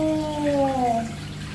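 A washing machine used without the right setup lets out its water, a steady rushing flow heard close, with a falling tonal whine over it.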